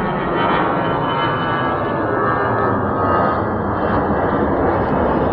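An Airbus A380 at an airport: a steady, loud, broadband roar of jet engines that holds constant for several seconds, dense and rumbling with no breaks.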